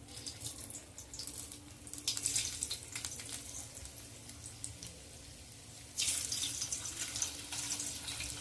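Frozen McCain french fries deep-frying in hot oil, a steady hissing bubble that swells louder partway through as more fries drop in, close and continuous with no talking.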